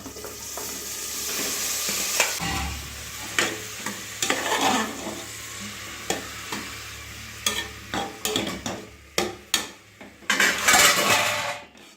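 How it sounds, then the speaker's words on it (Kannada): Ginger garlic paste fries in hot oil as a tempering for brinjal gojju, with a steady sizzle under repeated metal spoon stirring and scraping against the pan, sharp clinks growing denser toward the end. "ಇವಾಗ ಒಗ್ಗರಣೆ ಮಾಡ್ತಿದ್ದೀನಿ. ಈಗ ಶುಂಠಿ ಬೆಳ್ಳುಳ್ಳಿ ಪೇಸ್ಟ್ ಫ್ರೈ ಆಗಿದೆ."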